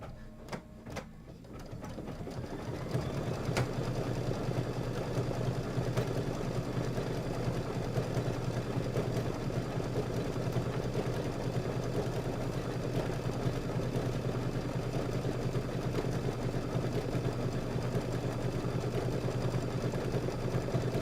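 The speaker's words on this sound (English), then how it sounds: "I'm going to have to go back and stitch that." A sewing machine hums steadily and continuously while stitching a Kimberbell Cuties table topper quilt project, a constant mechanical drone that starts softly and holds at an even level throughout.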